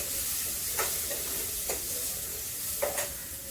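Chopped onions frying in a pan until golden, a steady hiss of sizzling oil broken by three brief spoon scrapes, close and fairly soft with no talking.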